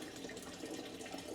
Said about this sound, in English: Voila, that's the beautiful part when you hear water running.